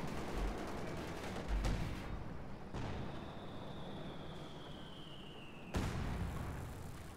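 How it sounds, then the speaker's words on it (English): A 120 mm mortar fires during a video game battle, sharp deep thumps spaced a few seconds apart over a steady rumble of distant combat, with a whistling tone drifting between shots. "120 mm mortar here, waste no time."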